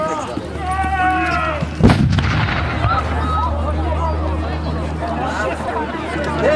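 One sharp, heavy artillery cannon boom at an outdoor historical battle reenactment of the January Uprising in Poland cuts through a noisy crowd; people chatter and shout before and after the single blast.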